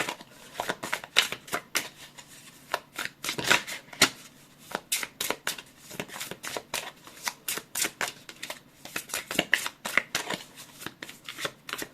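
Tarot cards are shuffled over and over in quick, crisp flicks and snaps, a close rhythmic patter running steadily with no voices.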